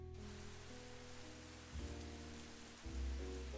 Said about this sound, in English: Let's start with rain.